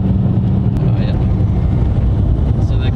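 A 2002 Nissan Silvia 200SX on the road, with a steady loud engine and exhaust drone and road roar from inside the cabin, faint turbo whistle flickering through, under occasional speech.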